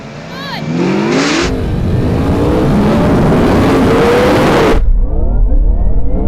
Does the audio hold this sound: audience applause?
no